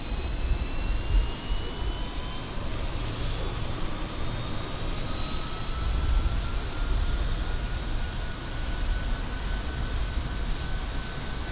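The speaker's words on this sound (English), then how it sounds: "Those engine sounds are phenomenal." Simulated Fokker F28 jet engines in Microsoft Flight Simulator, a steady loud turbine roar with rising high-pitched whine tones that drift upward, continuous and close throughout with no talk.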